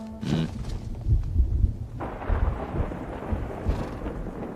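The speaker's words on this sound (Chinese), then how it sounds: "看这天似乎又要下雨了" Thunder rumbling ahead of rain, a deep rolling boom building low and heavy, then easing into a broad wash of falling rain, heard alone without voices.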